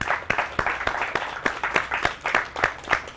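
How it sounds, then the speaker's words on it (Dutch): Sparse, rhythmic clapping from a small group at a Dutch-language COVID-19 news briefing honoring ambulance and biology staff, steady claps at roughly even intervals, moderately near. "Maar ik zou vragen om een applaus voor de RGD en het biologie."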